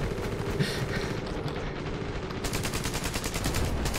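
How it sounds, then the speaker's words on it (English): Dense gunfire and explosions on a battlefield in the video game Ravenfield, a continuous rattling barrage of rapid shots over a heavy low rumble, loud and sustained, no talk. "Uh-oh, I think they're firing at us."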